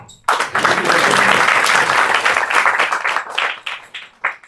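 An audience at an evening class in Mayapur breaks into applause, a dense, sustained burst of clapping that starts abruptly, holds steady for a few seconds, then thins into scattered claps at the end.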